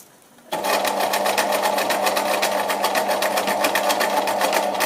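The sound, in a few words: sewing machine stitching a hem corner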